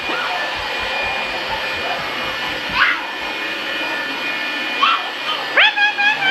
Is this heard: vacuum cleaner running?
yes